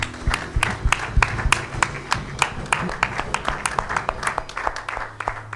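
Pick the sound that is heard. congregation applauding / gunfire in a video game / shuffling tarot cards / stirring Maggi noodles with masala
congregation applauding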